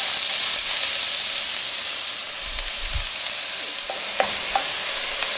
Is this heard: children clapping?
no